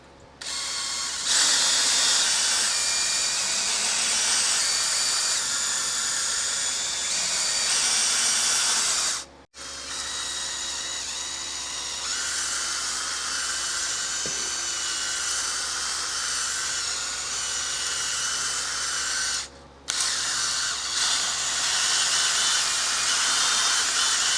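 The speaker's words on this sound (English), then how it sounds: "Start honing these out." A drill spins a hone inside the cylinders of a Honda CB350 engine, giving a steady, loud, high whine that runs almost continuously, with two brief stops before it starts up again.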